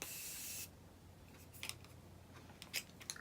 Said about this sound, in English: I'm gonna spray the other side.